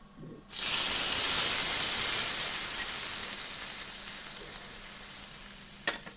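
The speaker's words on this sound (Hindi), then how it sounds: "तो अब इस तैयार तड़के को साग में डाल देंगे" A sharp burst of loud sizzling as hot oil tempering is poured into chickpea-leaf greens with meat, settling into a steady crackling fry that slowly fades, with a brief clink near the end.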